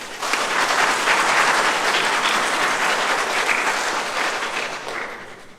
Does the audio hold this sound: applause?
yes